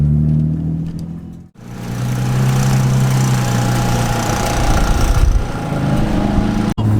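Drift car engine heard from close by during a slow parade lap at a grassroots drift day, a loud continuous drone with a brief sharp cut near the start and another late, otherwise steady throttle.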